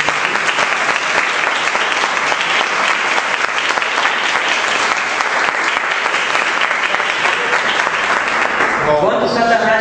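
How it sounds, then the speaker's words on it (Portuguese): A church congregation breaks into lively, cheerful applause during a sermon, loud, dense, rapid clapping sustained for nearly ten seconds before a voice cuts in at the very end. "Dá uma salva de palmas bem alegre"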